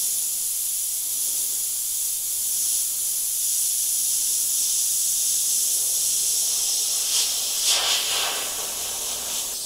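An airbrush sprays blue paint on a Martian model with a steady, close, continuous hiss that swells slightly near the end, with no talking.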